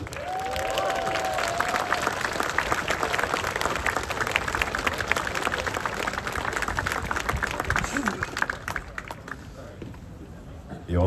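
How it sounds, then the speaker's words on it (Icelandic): Crowd applause at a protest rally in Iceland, loud sustained clapping from many people throughout, with some voices mixed in. "Við skulum gefa Baldri kröftugt klapp."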